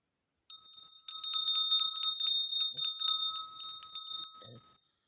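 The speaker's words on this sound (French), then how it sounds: "Une petite séance de cloche pour ouvrir la séance." A small bell rung to open a spiritual card-reading session sounds as a bright, sustained metallic ringing of repeated strokes that gradually fades out, alone with no talk.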